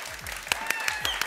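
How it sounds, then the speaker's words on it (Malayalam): Audience applause at a magic and circus variety show, a steady wash of clapping running throughout with a few sharper claps standing out, under a voice speaking over it. "കയ്യടിയണ്ടല്ലേ"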